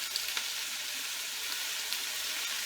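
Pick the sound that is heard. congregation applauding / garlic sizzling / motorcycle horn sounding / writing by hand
garlic sizzling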